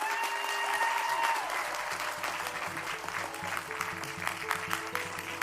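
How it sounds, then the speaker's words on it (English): A large audience at a university commencement applauds graduates in a steady, dense wash of clapping, with a fading sustained tone at the start and faint rhythmic music underneath. "And let's give these extraordinary graduates another round of applause."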